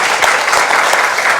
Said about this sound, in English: A round of applause, please, for our triathletes for joining us today.